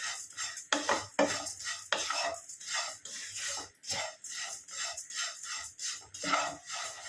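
Red poha being stirred and dry-roasted in a pan, a steady scraping and rustling of spoon against metal with brief clinks, close and continuous with no talk.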